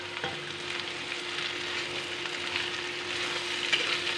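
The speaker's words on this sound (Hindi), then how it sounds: "हम साथ में आलू को भी फ्राई कर लेते हैं" Potatoes and pointed gourd fry in a pan with an even, soft sizzling hiss that continues throughout, with a few faint scrapes of stirring.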